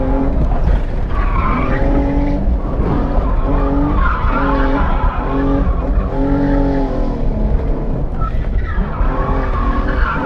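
Rental drift car skidding with sustained, loud tire squeal and revving engine, continuous and close throughout.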